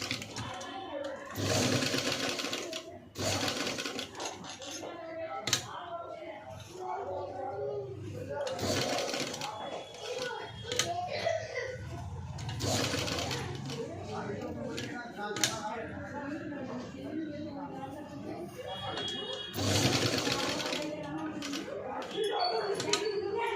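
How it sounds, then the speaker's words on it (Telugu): A sewing machine stitches around a blouse neckline in repeated bursts of fast mechanical whirring, with pauses between runs, while someone talks throughout. "నెక్ మొత్తం కూడా నీట్గా స్టిచ్ అనేది వేసుకోవాలి."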